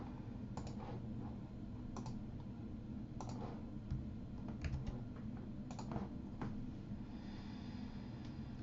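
A computer keyboard with a login ID and password being typed on it gives scattered light key taps and clicks, faint and close, over a steady low background hum.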